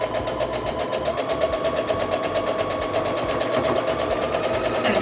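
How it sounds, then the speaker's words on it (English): Domestic sewing machine stitching quilt block pieces together, a steady close mechanical whir with rapid needle chatter running throughout, a voice faintly beneath. "Just going to sew this together and we're good to go"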